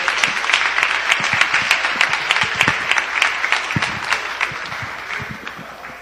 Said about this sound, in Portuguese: Pode se assentar e louvar a Deus com as palmas.